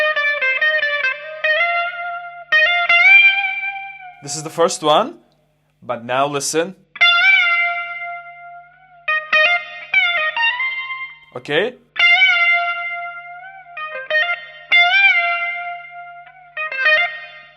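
Electric guitar bends with long sustain and a driven, effected tone from a solo, played in short phrases broken up by someone talking.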